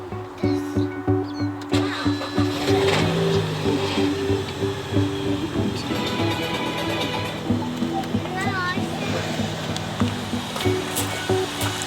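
BMW E90 320i N46 engine cranks and settles into a steady idle, a rhythmic low rumble with a slight pulsing beat, heard up close with a person talking over parts of it.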